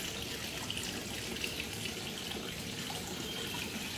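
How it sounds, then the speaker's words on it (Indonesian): Water is poured onto pepper plant cuttings set in a polybag, a soft steady trickling and splashing heard close and fairly quiet for a few seconds, with no one speaking. "Ini airnya."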